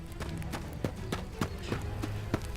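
Horses' hooves clip-clop in an irregular series of sharp, fairly close knocks over a few seconds, with faint background ambience.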